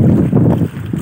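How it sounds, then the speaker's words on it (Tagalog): Wind buffeting the microphone on a small fishing boat at sea in rough weather, a loud, low, gusty roar lasting about a second. "Napakalakas ng hangin."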